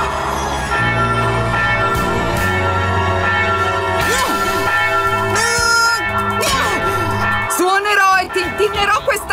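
A big bell swings and rings in a bell tower in a Paw Patrol cartoon, heavy metallic tolls under loud dramatic music, sound effects and character voices.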